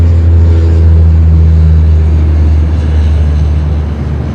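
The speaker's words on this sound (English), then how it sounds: "It's got a very like deep groan, sort of like a tired grandpa. the old Dash 8." Dash 8 turboprop airliner, an ex-Continental airframe at Sydney Airport, giving a loud, steady, deep droning groan with a low engine hum throughout.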